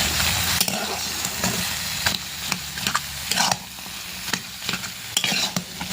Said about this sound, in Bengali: এগুলো খুব ভালো করে আমি কষিয়ে নেব, একেবারে যেন দলা পাকিয়ে যায় সেইভাবে করে এটাকে কষতে হবে।